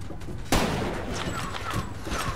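Enemy gunfire in the Far Cry 2 video game, a sudden loud burst of shots followed by a continuing rattle of fire and distant hits, with no talk over it.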